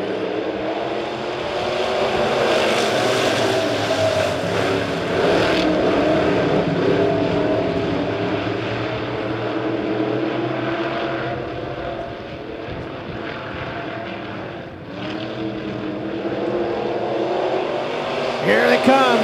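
Midwest Modified race cars roar past the start-finish line at Springfield Raceway, a loud, sustained engine drone that swells and fades as the pack passes, under an announcer's steady commentary.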